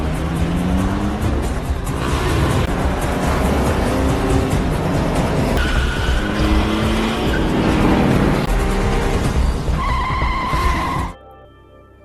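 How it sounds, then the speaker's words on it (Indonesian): Cars race through a film car chase, engines revving loud and close with repeated tire squeals and skids layered over continuous roar before cutting off abruptly near the end. "Dengan sigap, Paul berusaha mengejar mereka sehingga terjadi aksi kejar-kejaran"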